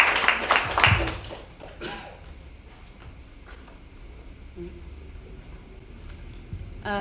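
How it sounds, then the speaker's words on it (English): An audience claps to welcome a speaker at an evening talk, the applause loudest at the start and fading over a few seconds into quieter room noise. "Give her a warm applause."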